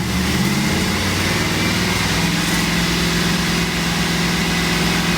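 A truck engine with misfiring cylinders, cylinder 7 worst, runs loud and steady nearby with an uneven, lumpy idle throb and no one talking.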